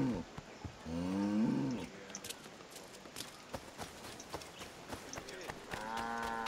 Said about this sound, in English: I can pet the cows.